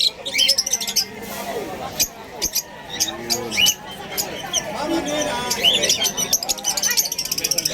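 Birds chirp and tweet in a busy pet market in Bulacan, with many short high calls scattered throughout, mixed with nearby chatter and general market bustle.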